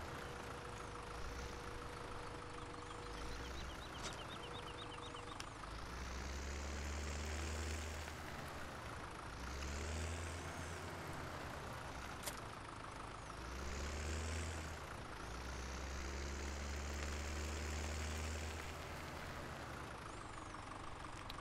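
Tractor engine in a farming game on the Altenstein map, idling and swelling in repeated revs roughly every few seconds as the tipper works to dump a bale, moderately near, no talk.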